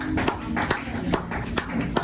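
A church congregation applauds during a French-language worship service, a short burst of rhythmic hand claps in a reverberant hall.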